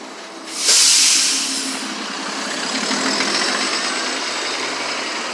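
Traffic passing on a Boston street, a loud broadband whoosh of a vehicle going by close at first, then a steady hiss and rumble of cars continuing in the background.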